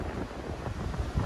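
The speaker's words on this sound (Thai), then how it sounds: "ลมแรงมากค่ะทุกคน" Strong wind buffets the microphone on the open upper deck of a boat in Denmark, a continuous loud rumbling roar with gusting surges and no speech.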